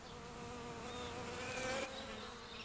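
Steady insect buzzing from honeybees on Kangaroo Island, a continuous droning hum with shifting pitch, fairly close and alone without any voices.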